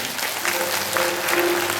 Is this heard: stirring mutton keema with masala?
no